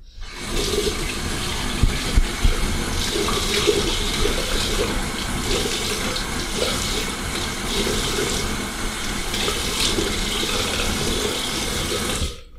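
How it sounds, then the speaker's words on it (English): Cold tap water runs hard into a sink while it is splashed onto a face during face washing, a steady close gush with small splashy bursts lasting throughout. "you can switch it to cold water and splash the cold water across your face"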